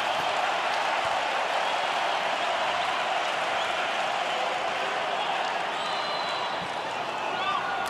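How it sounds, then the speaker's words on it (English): Tennis crowd at the 2018 US Open men's final in a large stadium, a steady, dense wash of applause and cheering that holds evenly loud for the whole stretch without a break. "Crowd wants to see more, so they're even going to be more for Del Potro."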